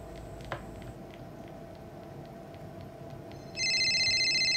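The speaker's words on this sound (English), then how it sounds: "Another phone call." A telephone rings in a game scene, its electronic ring starting abruptly near the end and sounding loud and sustained over a faint, busy background.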